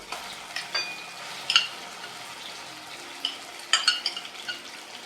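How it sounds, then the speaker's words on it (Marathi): Masala with onion and tomato frying in oil for a mutton curry, a soft continuous sizzle broken by a few sharp clinks and scrapes of stirring against the pan, close by and without speech. "आपण तेल सुटेपर्यंत साधारण तीन ते चार मिनटं मस्त भाजून घेऊया"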